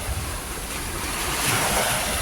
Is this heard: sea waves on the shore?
yes